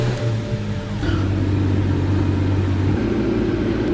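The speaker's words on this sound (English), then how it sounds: "let's go ahead and start up the car" A BMW N55 engine cranks and catches right after an oil change, then settles into a steady, close idle rumble that runs on alone.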